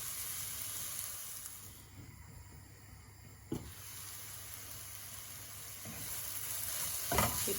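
Drumstick pulp stir fry cooks under a lid in a pan, a faint, steady muffled sizzle with a couple of small knocks, alone and without talk.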